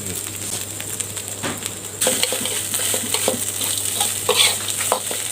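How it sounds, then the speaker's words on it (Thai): Hand-pounded curry paste and roasted field rat meat stir-fry in oil, loud steady sizzling with repeated scraping and clattering of a utensil against the pan throughout. "ผัดพริกเกลียวหอมแล้วก็ใส่หนูที่เราคั่วไว้นะครับ ใส่ลงไป"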